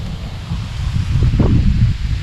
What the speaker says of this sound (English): Well, this wind is kicking.